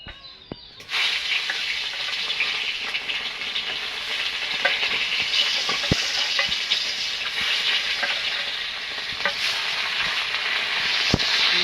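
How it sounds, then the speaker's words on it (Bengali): Small fish frying in hot oil in a kadai, a steady loud sizzle that fills the whole stretch, with occasional sharp pops and spatters, heard alone without talk. "তেলটা গরম হয়ে গেছে মাছগুলো ভেজে নেব"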